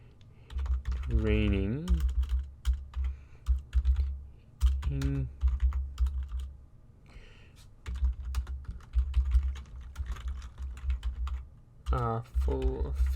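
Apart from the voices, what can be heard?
typing on a computer keyboard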